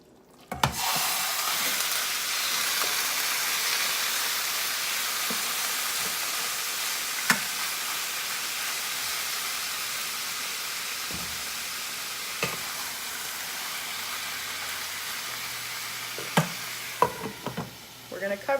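Meat for carne en salsa verde dropped into a warm pan, a sudden burst into a strong, continuous sizzle that holds steady, broken by occasional utensil taps and clinks.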